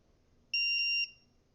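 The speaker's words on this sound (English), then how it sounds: "I don't know if you can hear the beep on the video, but the app has notified me that it's ready to put the chicken in" A sous vide cooker's app notification sounds as a single clear, high electronic beep lasting about half a second, fairly loud against a quiet kitchen background.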